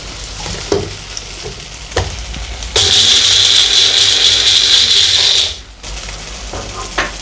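Mixer grinder dry-grinding toor dal, ajwain, coriander seeds, dried red chillies and curry leaves into powder: a loud, steady high whirring burst of about three seconds, ending abruptly, with quieter kitchen clatter before and after.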